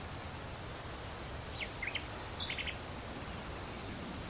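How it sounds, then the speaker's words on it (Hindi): Small birds chirp faintly in open countryside at Sariska Kasba, Rajasthan, with a few brief high calls over a steady hiss of wind and rustling. Nobody speaks. "अगर हम चुप हो जाएं तो सिर्फ हवा, चिड़ियों की, नेचर की आवाज है"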